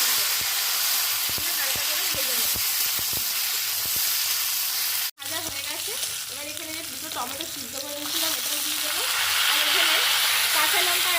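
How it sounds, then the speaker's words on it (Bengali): Dried red chillies, bay leaves and crushed cumin sizzle steadily in hot oil in a pan, with a few sharp clicks of a spoon early on, a brief break, then a fuller, bubbling crackle that swells toward the end. "দুটো শুকনো লঙ্কা ফোড়ন আর দিয়ে দেবো কয়েকটা তেজপাতা চারটে পাঁচটা"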